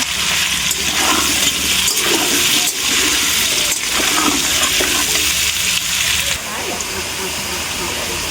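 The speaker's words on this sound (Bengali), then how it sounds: "এবার আলুটাকে সুন্দর করে ভেজে নেব" Potatoes frying in oil in a wok, seasoned with salt and turmeric, give a loud, steady, close sizzle that runs continuously without a break and eases slightly toward the end.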